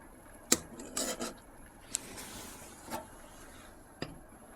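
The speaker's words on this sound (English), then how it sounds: "just trying to get rid of the foams" A spoon skims foam from a pot of lamb bone broth simmering with a leg of lamb, seaweed and mint, giving a few sharp scattered clinks and scrapes against the pot over a quiet background.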